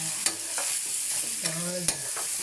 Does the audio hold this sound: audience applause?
no